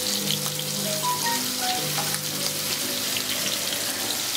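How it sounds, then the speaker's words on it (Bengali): A spice paste of coriander, cumin, chilli and turmeric fries in a pan over medium heat, producing a soft, steady sizzle and bubbling with faint clinks, close-up and without talk. "এর মধ্যে আমি এই মিক্সড মশলাটা দিয়ে দিচ্ছি, ধনে জিরা লঙ্কা হলুদ বাটাটা দিয়ে দিলাম"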